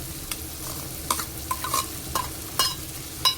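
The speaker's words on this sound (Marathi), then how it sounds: "आता 1-2 मिनिटं ह्या लसणाचा आणि हिरव्या मिरचीचा कच्चेपणा जाऊस्तोवर आपल्याला जस्ट असं ह्याला फ्राय करून घ्यायचं" A ground paste of green chilli, garlic and coriander fries with mashed tomato in a close, steady sizzle, broken by sharp spoon scrapes and clinks against the pan every half second or so.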